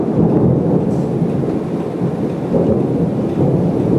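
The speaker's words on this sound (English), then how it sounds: "Another storm." A thunderstorm pours steady rain while low thunder rumbles through the whole stretch, a dense continuous roar with no voices.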